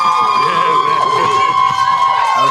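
A crowd of supporters cheers loudly and continuously, a dense wall of shouting and whooping voices close by with no pause across the short stretch.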